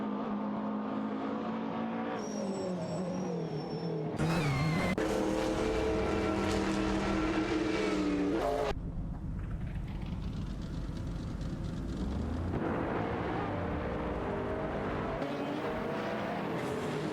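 Race cars in a racing video game, including a Toyota and a Peugeot 908, with steady loud engine drones shifting pitch as cars change gear and swap positions, continuous throughout with no voices.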